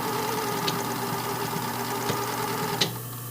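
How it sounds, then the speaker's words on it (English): Sewing machine stitching a fabric reinforcement on a brief panty, a steady mechanical whir with a few sharp clicks, close and continuous with no talking. "I want to try and stitch right at that 3/8 and just kind of do a little reinforcement"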